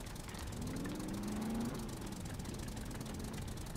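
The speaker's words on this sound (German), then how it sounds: "Boah, direkt ein Traktor ist halt mega geil." Tractor engine idling in the survival video game Scum: a steady, rough low drone running throughout with no talk.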